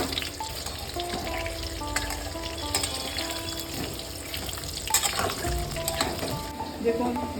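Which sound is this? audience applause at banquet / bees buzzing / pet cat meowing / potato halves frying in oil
potato halves frying in oil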